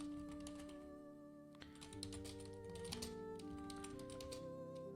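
Quiet typing on a computer keyboard, a soft run of light key clicks heard close but faint beneath a steady musical background.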